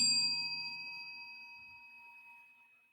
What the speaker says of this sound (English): That was a perfectly timed bell